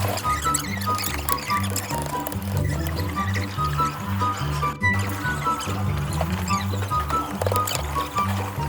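Water gushes hard from a high-pressure pipe at a bird enclosure, a loud, continuous rushing spray with a low rhythmic throb running underneath.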